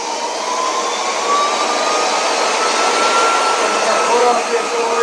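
A Warp 9 electric motor revs up during a test run, giving a loud, steady high-pitched whine with tones that climb as it winds out.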